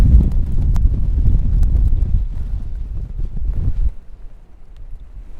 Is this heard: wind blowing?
yes